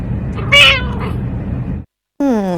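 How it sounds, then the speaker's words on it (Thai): A pet cat held in someone's arms lets out a loud meow, followed by a brief silence and then a second clear, tonal meow. "ที่แมวมันร้องอาจจะเป็นเพราะว่าอุ้มเขานาน"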